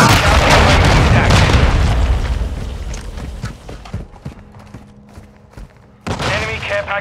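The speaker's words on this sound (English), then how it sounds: "Hostiles launched a cruise missile." A cruise missile strike in Call of Duty: Modern Warfare 2 lands as a loud, booming blast with a rumbling, crackling roll that fades into quieter sparse battle noise before another burst of gunfire and debris.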